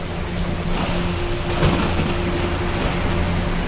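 Thunderstorm with steady rain hissing throughout, a low rumble of thunder swelling faintly in the middle, and no voices.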